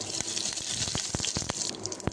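Mustard seeds splutter in hot oil while a rasam is being made, giving a close, steady crackle of tiny pops and sizzles throughout.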